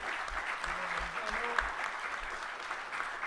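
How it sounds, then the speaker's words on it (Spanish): Audience applause at a trade-union talk at the CGT, a steady wash of clapping from a crowd that holds evenly throughout at moderate loudness without any voices on top. "con Agustina Micone, que está allá, que pido un aplauso para Agustín."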